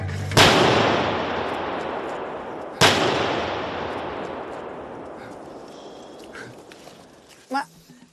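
Two loud fireworks bangs outdoors, a sharp blast near the start and a second one almost three seconds later, each trailing off in a long rumbling echo, with faint voices and small noises afterward.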